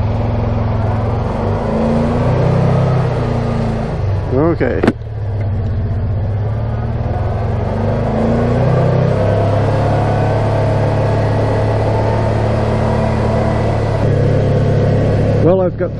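A brand-new 2022 Kawasaki Teryx S-2 side-by-side drives off on its first ride, its engine droning steadily with rising revving surges, close and loud, with a brief spoken word near the start.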